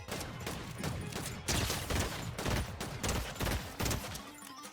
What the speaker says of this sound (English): We're getting shot at by another team